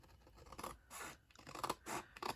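Scissors snip through thick paper while a gift box is being made, several separate cutting strokes in quick succession, close and fairly quiet, with no talking.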